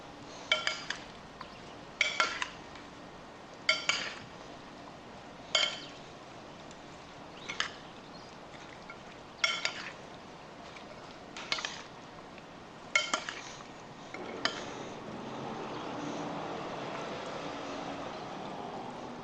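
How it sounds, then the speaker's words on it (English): Pimentos and warm potatoes slide into a dish along with their cooking oil: a string of sharp, evenly spaced utensil clinks against the dish, followed by a softer, steady scraping and pouring wash near the end, with no talk. "Now I'm going to add in these pimentos and my warm potatoes with the oil that it was cooked in."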